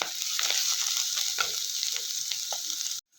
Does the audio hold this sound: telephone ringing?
no